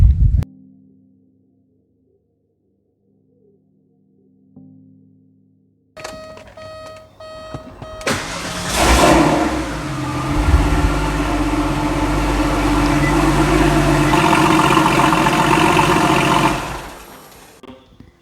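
After a few quiet electronic chimes and beeps, a Porsche 993 911 engine with a Fabspeed exhaust and Stage 2 tune fires up and runs loudly, with a deep, rough exhaust note that holds steady before stopping.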